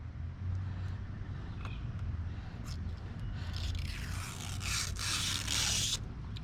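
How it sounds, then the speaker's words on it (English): Protective film is peeled away from new fog lights on a 1994-2002 second-generation Dodge Ram, a faint scratchy fumbling at a corner followed by a louder, drawn-out tearing peel near the end. "we're just gonna do a little peel job here,"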